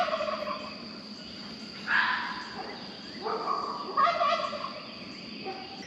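Turkeys in a garden turkey run gobble in several rippling bursts, close and fairly loud, separated by short pauses, over a quiet outdoor background.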